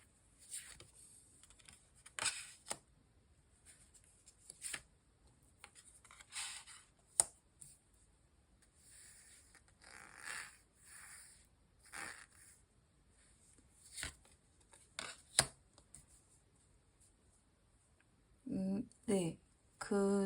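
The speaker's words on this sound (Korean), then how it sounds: "조언 카드를 이제 한번 뽑아보도록 할게요" Advice cards for a tarot-style reading are shuffled and drawn, making soft, scattered flicks and riffling taps against quiet room tone, with a burst of card handling near the end.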